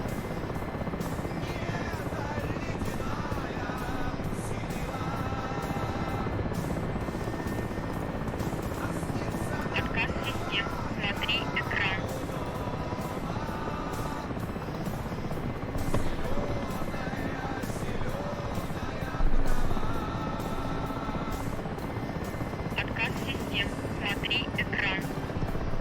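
Helicopter in the DCS flight simulator game, cold-starting with the rotor RPM not yet wound up, a dense, steady turbine whine and rotor drone throughout, with cockpit warning tones chirping now and then.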